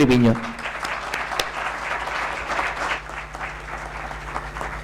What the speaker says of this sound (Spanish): vamos a recibir con un aplauso a Emilio José Triviño